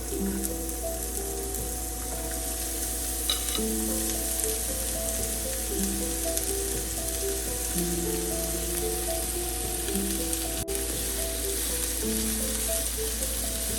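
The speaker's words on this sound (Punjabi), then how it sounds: "ਪਿਆਜ਼ ਨੂੰ ਅਸੀਂ ਭੁੰਨਾਂਗੇ ਜੀ" Onions and a spoonful of cumin seeds fry in hot oil for Punjabi dhaba-style chana dal, giving a steady, even sizzle that runs the whole time beneath a soft background melody, with no talking.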